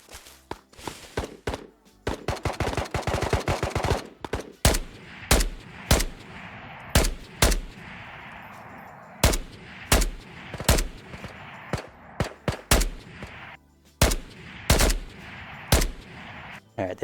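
Gunfire in the video game Ghosts of Tabor, with a rapid automatic burst early on followed by many sharp single shots spaced irregularly over a low background rumble, loud and close, with no talking.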